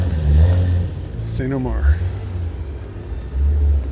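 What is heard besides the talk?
Porsche car revving and driving past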